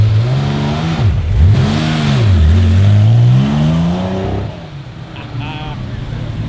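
Classic Porsche 911 and Lancia Stratos rally cars set off at a flag drop, engines revving up and down in loud sweeping bursts close by before fading into a lower idle, with voices talking over the noise.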